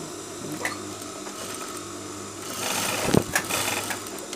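A sewing machine stitches between buttonholes on the hidden button placket of a shirt, giving a steady mechanical whir that grows louder and busier partway through, with a sharp clack near the end.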